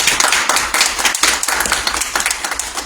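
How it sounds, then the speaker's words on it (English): Fire department cadets clap for themselves in a round of applause, a dense burst of many hands close by, steady and loud for a few seconds. "give yourselves a round of applause"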